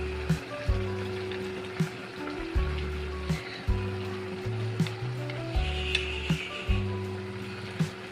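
Ground coconut paste tumbling onto cooked potatoes in a hot pan for a Kerala potato thoran, with steady close sizzling and a series of regular soft stirring scrapes, no talking.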